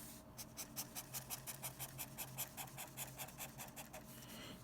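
Someone writes steadily during a lecture on dimensional analysis, with quick, evenly spaced strokes and scratches repeating about four times a second. The writing sounds close and moderately quiet over faint room hiss, with no speech.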